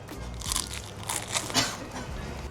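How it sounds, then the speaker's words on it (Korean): Several crisp, crackling bites into a flaky, slightly warm croissant, irregular crunches close to the mic with chewing between them, no talking. "바삭바삭 소리가 나."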